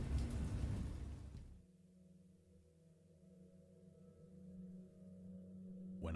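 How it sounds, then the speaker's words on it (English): Stormy weather with rain and thunder, loud at first as a dense rumbling wash, then dropping to a faint low drone and building again. "The storm is crazy right now."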